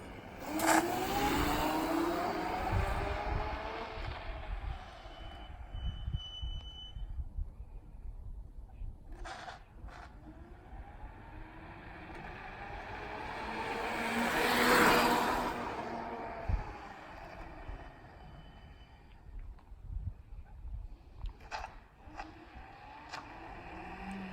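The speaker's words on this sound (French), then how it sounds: "C'est vraiment phénoménal, grosse accélération, beaucoup de puissance en mode 2 moteurs." An E-Moving Zapcool 2.4 electric scooter accelerates hard with both motors engaged, its whine sweeping up in pitch across several surges and swelling loud near the middle before easing off, recorded outdoors without speech.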